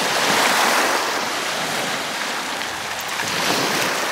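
Sea waves wash onto the shore in a broad, loud, continuous roar of surf with gusts of wind across the microphone.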